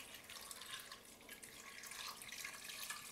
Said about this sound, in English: I'm going to add some water. I'm going to add this much water